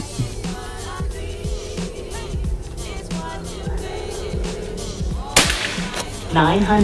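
A 2024 Predator Tactical PCP air rifle with a folding stock fires one sharp, loud crack near the end, after a stretch of scattered clicks and handling noises, with people talking around it.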